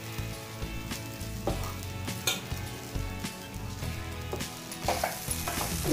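Rice is stirred into a hot pan of coconut mixture, giving a steady sizzle with scraping spoon strokes and light metallic clinks against the pan, close and alone without voices.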